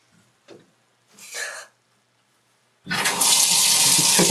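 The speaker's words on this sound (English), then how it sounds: "Yeah, turn on the water now." Brief thumps and a short rush come first, then a water tap is turned on and gushes loudly and steadily, a close, full splashing flow that continues to the end.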